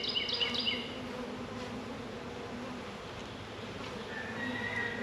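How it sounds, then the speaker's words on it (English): Steady honeybee buzzing drones throughout, close to the microphone, as a bee package is installed in a hive, with a constant low hum underneath and no voices. "A couple of bees may work their way out"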